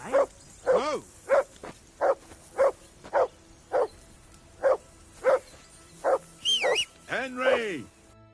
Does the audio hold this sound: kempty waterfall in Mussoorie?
no